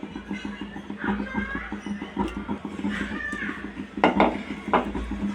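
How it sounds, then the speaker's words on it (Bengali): Vegetables and spices are stirred and scraped in a pan while cooking a Bengali potato, pointed gourd and fish curry, with repeated metallic utensil clinks and scrapes and a soft sizzle underneath. "তো খুব ভালোভাবে মশলার সাথে মিক্স করে নেব, সবজিটাকে কষিয়ে নেব"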